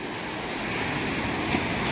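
Continuous broadband rush of sea surf close by on the shore at Malvan, Konkan coast, swelling slightly as a wave breaks, with no voices.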